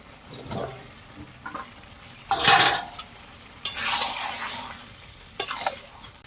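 Jackfruit goes into a pan of chicken curry, bringing bursts of sizzling and stirring with splashy scraping of pieces, in three loud surges separated by quieter simmering.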